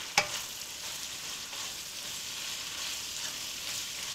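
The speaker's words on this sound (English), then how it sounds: "you can add your cabbage. Give it a few stirs." Cabbage stir-fried in a hot wok for Hokkien mee gives a steady, close sizzle and hiss throughout, with one sharp click near the start.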